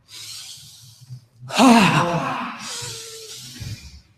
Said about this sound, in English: as you exhale, create the sound of ha, H-A, ha, through the mouth